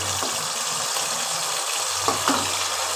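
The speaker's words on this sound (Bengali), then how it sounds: "এবার আমি জল ঢেলে দেবো" Water poured into a pan of chilli cauliflower, a continuous close gushing and splashing with a couple of brief clinks near the end, no one talking.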